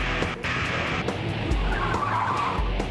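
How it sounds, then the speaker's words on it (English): A car driven by a suspected drunk driver weaves between lanes and goes over a bump, giving loud tire skidding and squeal over a roaring engine, close and continuous, with no talk. "the way she launches her car into the air as she goes over this bump"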